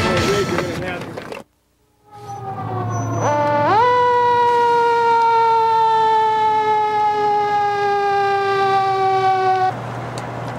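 A fire truck siren wails loud and close, its steady tone rising after a brief pause, over a low engine rumble before it passes and fades. Speech is heard at the start.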